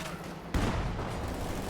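An anti-tank gun firing in the real-time strategy game Company of Heroes 2, a single sharp, heavy blast at close range followed by a rumbling battle-noise tail.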